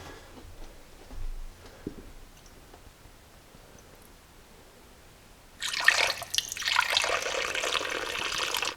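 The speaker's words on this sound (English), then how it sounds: "now the last step is just to top off the coolant" A 50-50 mix of full-strength antifreeze and distilled water is poured into a Jeep 4.0 radiator: faint drips at first, then a sudden steady gurgling pour that runs to the end.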